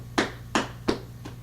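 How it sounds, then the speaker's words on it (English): Four sharp hand claps ring out alone at a steady, slightly slowing pace, close and crisp, each with a brief bright decay against a low background hum. "Clap."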